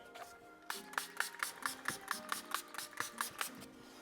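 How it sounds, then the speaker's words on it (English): A spray bottle is pumped rapidly onto a Honda Civic Si screen during screen protector installation, about a dozen short, crisp hissing squirts in an even rhythm, close up. "I'm pretty generous with the spray."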